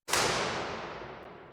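A single sharp burst of bright noise, the default impulse of a convolution reverb, decays smoothly into a long, washy reverb tail, fading gradually over about a second and a half.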